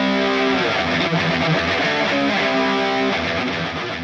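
A dense, distorted electric guitar from a Line 6 Helix preset plays a driving rhythm part, loud and continuous with sustained chords and no voices.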